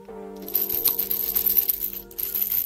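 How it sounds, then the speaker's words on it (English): A small cheap micro fishing lure with large split rings and treble hooks is shaken, giving a busy, close metallic rattle of many quick clicks that run continuously for a couple of seconds with no talking. "You can hear the rattle."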